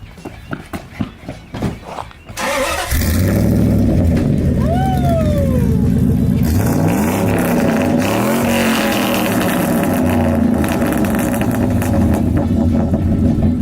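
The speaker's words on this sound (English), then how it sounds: "let's take the old Dakota for a ride and listen to those sweet pipes we welded up" An old Dodge Dakota with freshly welded exhaust pipes starts up after some knocking and handling, then a loud, steady engine drone runs on, its tone rising and falling.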